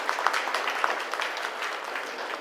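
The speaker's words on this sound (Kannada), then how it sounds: "ಅವರಿಗೆ ಒಂದು ಚಪ್ಪಾಳೆ ಇರಲಿ." An audience applauds at a Chithara 2026 art exhibition gathering hosted by an Aryavaishya literary council, producing a steady patter of many hands clapping for a couple of seconds without talk.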